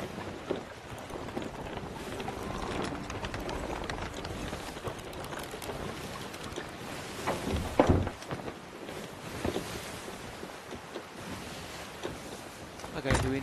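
Wind and ocean waves wash steadily around a sailing ship in the pirate video game Sea of Thieves, a broad continuous rush with a few louder splashes and knocks, while voices talk over it.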